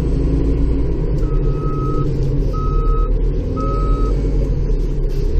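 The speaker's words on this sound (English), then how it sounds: "I have a bypass switch on my backup alarm so I can turn it on and off." Backup alarm on a snow plow truck beeping from inside the cab: three steady, evenly spaced tones over a loud continuous engine rumble.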